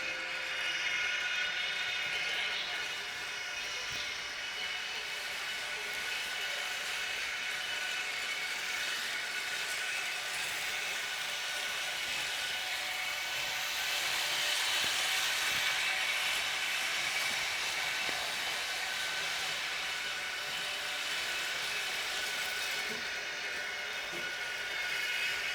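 Sound system of an ICE 2 model locomotive on a model railroad plays a steady, continuous rolling hum and hiss, moderately loud and alone with no talk.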